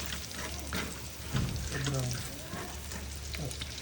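Garlic and onion sautéing in a pan for pakbet, a soft sizzle with some stirring and clatter, heard alongside faint water running and background talk.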